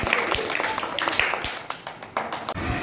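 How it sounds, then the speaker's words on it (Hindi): Schoolchildren clap their hands together in a classroom, a brief burst of quick, scattered claps that thins out over a few seconds, heard at moderate loudness. "ठीक है, तालियां बजाओ।"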